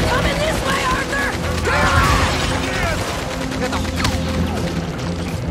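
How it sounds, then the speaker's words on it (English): Mounted gun firing in Red Dead Redemption 2, rapid clattering bursts and mechanical cranking over battle noise, with voices shouting during the fight. "This gun is amazing!"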